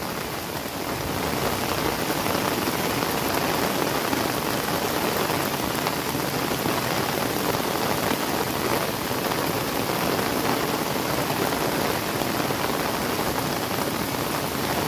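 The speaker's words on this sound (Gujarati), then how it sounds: "વાહ વરસાદની મોજ ભાઈ" A torrential downpour pounds steadily over a flooding river in Gir. The dense, loud hiss of rain carries on without a break, with no voices.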